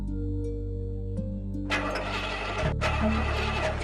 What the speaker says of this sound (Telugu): బండి స్టార్ట్ అవ్వట్లేదండి.